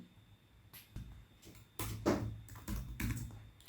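HTML code being typed on a computer keyboard: a close run of irregular key clicks and clacks, quiet at first and then louder, denser strokes in the second half, with no talking.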